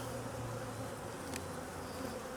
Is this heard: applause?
no